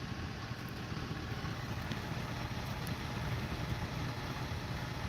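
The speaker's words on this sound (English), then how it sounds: "I like the sounds of diesels idling" Diesel trucks idle nearby, including a bobtail tractor, giving a steady low rumbling drone with constant broadband noise that holds evenly throughout, with no voices.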